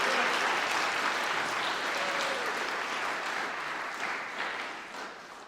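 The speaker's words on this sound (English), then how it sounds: "Can we give him a big round of applause for that?" An audience at a high school music hall of fame concert gives sustained applause, a thick, even roar of many hands clapping that slowly fades toward the end, with no speech over it.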